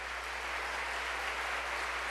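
A church congregation applauds during a Spanish-language service, a steady, even wash of clapping that sounds distant and blurred, holding at one level throughout.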